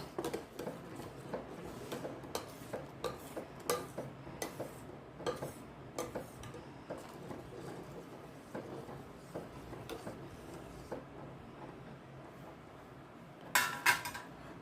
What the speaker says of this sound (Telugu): పాలని బాగా మరిగించుకోవాలండి చక్కగా మరిగించుకోవాలి